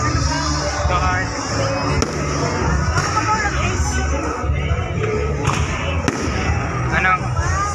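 Fireworks go off in a handful of sharp, scattered bangs and pops amid lively crowd chatter, with people talking close by the whole time.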